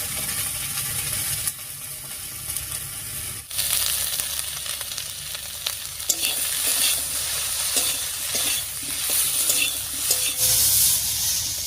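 Potato and pumpkin greens cook with turmeric and salt in a pan, giving a steady sizzle with intermittent stirring clatter and a brief metallic knock, close and fairly loud.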